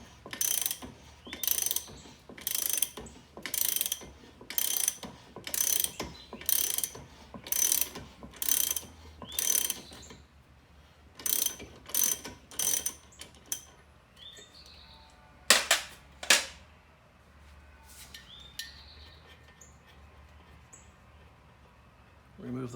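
A ratchet wrench loosens the propeller nut on a Mercury Alpha One outdrive, a loud close run of rhythmic clicking bursts, then a pause and a few sharper clicks and clanks.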